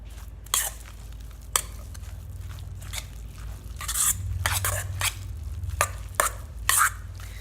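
Chickpea tuna salad being stirred together with dressing in a bowl, giving soft wet squishes and scraping clicks at an irregular pace over a low steady hum, with no talking.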